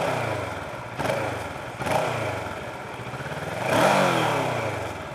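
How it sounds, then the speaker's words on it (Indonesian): Exhaust of a Kawasaki Ninja 650 (ER6F) motorcycle on a test ride in Bali, revving in a few rising bursts over a steady rumbling idle, close and fairly loud, with no talking. "Terus bunyi knalpotnya. Ini ternyata bedanya sama Ninja beda ya bunyinya ya."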